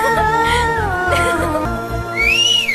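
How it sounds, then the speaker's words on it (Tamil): Party volunteers celebrating at an office let out loud, shrill whistles, several rising and sustained tones overlapping over a crowd's rhythmic low thumping and clamour. "எவன்டா விசில் அடிச்சது?"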